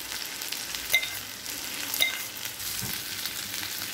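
Tandoori chicken pieces pan-frying in oil, a steady, close sizzle with a couple of brief knocks as the pieces are turned.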